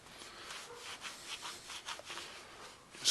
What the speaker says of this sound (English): just give it a good wipe